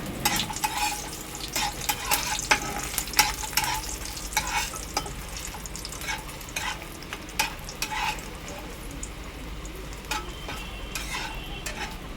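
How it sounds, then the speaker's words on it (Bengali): Bori, small lentil dumplings, frying in hot oil in a pan, with a continuous soft sizzle broken by repeated scraping and clinking stirs of a utensil against the pan, close and moderately loud, no voices. "আমি এবার বড়িগুলো তুলে ভেজে রাখছি"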